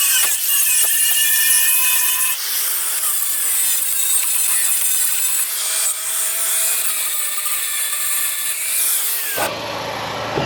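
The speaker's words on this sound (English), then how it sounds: "I can get the grinder in there to get that weld out" A grinder cuts out a weld on an aluminum boat dock, a loud continuous high whine and rasp that shifts pitch as pressure changes, close up, then cuts off abruptly at the end.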